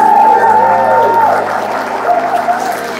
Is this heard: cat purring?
no